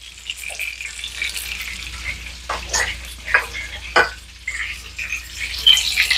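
Battered fish fillets fry in a pan with a steady soft sizzle, broken by several louder crackling bursts and scraping as they are moved and turned, close by, with no talking.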